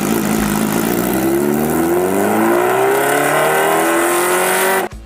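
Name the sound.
Kawasaki H2R supercharged 998cc inline four motorcycle engine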